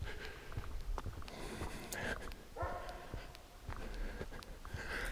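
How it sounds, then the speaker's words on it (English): A dog named Lila barks repeatedly in a forest, sharp yips and barks at mid distance in an irregular rhythm, with some quiet whimpering between and faint ambient noise around. "You can hear Lila in the background barking"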